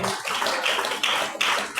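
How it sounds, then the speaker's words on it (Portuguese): A church congregation claps together in a dense, steady patter of many hands, sustained throughout without a clear beat. "Agora bater as palmas bem forte para o Senhor Jesus."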